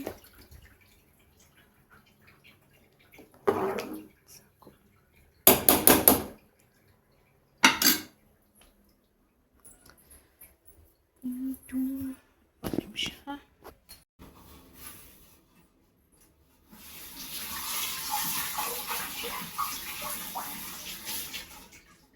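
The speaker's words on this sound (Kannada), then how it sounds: "ಪಾತ್ರೆ ವಾಶ್ ಮಾಡಬೇಕು" Dishes, pots and metal vessels clatter and clink at a home kitchen sink in sharp, scattered bursts, then running tap water rushes steadily for the last few seconds; no one speaks.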